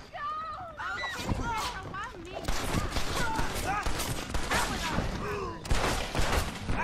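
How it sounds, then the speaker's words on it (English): Gunfire in the western video game Red Dead Redemption, repeated shots crackling beneath near-continuous talking voices that dominate throughout. "Okay, now they're shooting at me."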